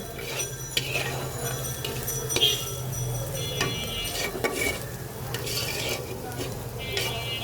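Prawns are stirred in a frying pan with a spice mix, with repeated scraping strokes of a spatula over a constant close sizzle.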